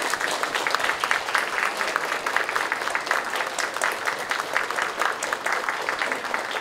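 A seated audience at a shogi talk show applauds as the professional players come on stage, with dense, even clapping that stays steady and full for the whole span.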